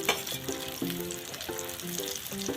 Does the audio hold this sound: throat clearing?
no